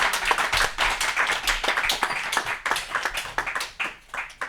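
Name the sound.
congregation applauding to acclaim the Lord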